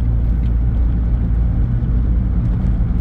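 A rebuilt first-generation Smart car on a road test, shifting through first, second and third gears, its engine a steady close rumble from inside the cabin with a slight high whine.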